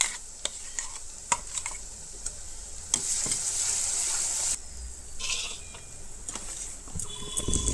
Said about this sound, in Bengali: এরপরে আমি লঙ্কার পেস্টও দিয়ে দেবো